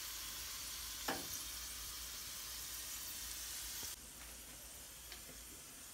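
Steady, loud sizzling of a tadka tempering in hot oil crackles continuously, with a brief stirring clink and a slight drop in intensity partway through.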